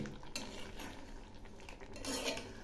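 A spoon scrapes and clinks against a pan in a few quiet strokes, stirring thick catla fish curry with a soft sizzle beneath.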